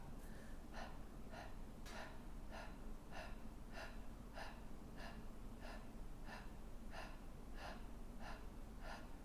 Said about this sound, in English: So just start with a whisper of ha.